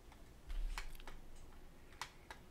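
Quiet computer mouse clicks and Enter key presses come as a handful of sharp, isolated taps spread over a couple of seconds against low room hum, with no voices.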